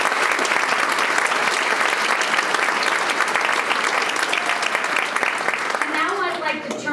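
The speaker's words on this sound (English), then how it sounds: "Let's give these students a round of applause" Dinner-banquet audience giving students a round of applause, loud, steady clapping from a large crowd throughout, with a voice beginning to speak as it tapers off at the end.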